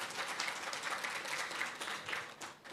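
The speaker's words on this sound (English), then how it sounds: "Please, a round of applause for all the speakers once again." A conference audience gives a round of applause for the speakers at a youth resilience event, a steady, fairly faint wash of clapping that holds evenly throughout.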